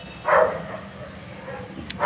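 A German Shepherd gives a single short bark indoors, then the room falls to a low hum with faint shuffling and a brief click near the end.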